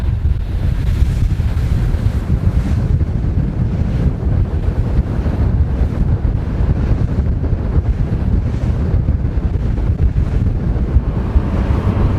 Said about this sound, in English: As the wind increases, and the waves do too, more as it happens.